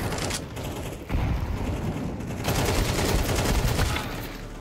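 Rapid gunfire in the video game Counter-Strike 2, with continuous dense shooting and mechanical clatter running throughout at a steady, loud level.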